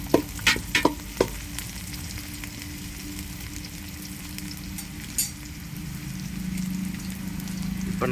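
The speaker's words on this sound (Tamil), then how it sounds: "எல்லாத்தையும் ஒன்றா நல்லா மிக்ஸ் பண்ணிக்கலாம்." Green chillies and coriander are stirred into a half-kilo chicken biryani pot, making a steady soft sizzle with a few sharp spoon scrapes and taps near the start, no voices.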